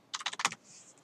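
A quick run of about six or seven keystrokes on a computer keyboard, close and fairly quiet, followed by a faint hiss.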